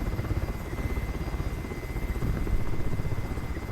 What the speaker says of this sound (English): Oh, it's a MH-60L.